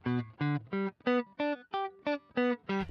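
An electric guitar through a Boss ME-90 with no delay plays nine short, distorted, staccato notes in a quick even rhythm, each cut off dry and close with no echo.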